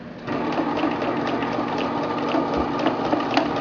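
A sewing machine stitches a plastic baggie onto a pot holder, running back and forth with a steady close mechanical whir and needle clatter for the whole stretch.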